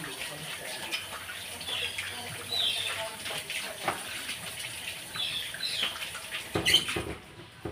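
Water runs and splashes as a pipe part from a pump with a worn leather cup is rinsed by hand, a soft, steady patter with small clinks and shifting flow, fairly close.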